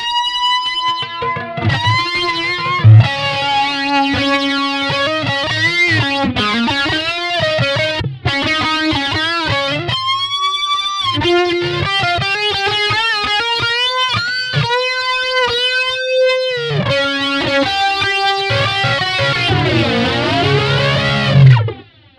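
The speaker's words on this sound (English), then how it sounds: "I've also put a kind of flanger effect on it" A heavily distorted electric guitar plays loud, scrappy, bending notes with a sweeping, whooshing flanger effect throughout, no voices.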